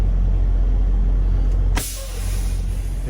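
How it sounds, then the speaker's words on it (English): A semi truck's air brakes set as it backs into a shipper's dock door: a steady engine idle, then a sudden loud hiss of released air, after which a lower rumble continues. "Hit the brakes."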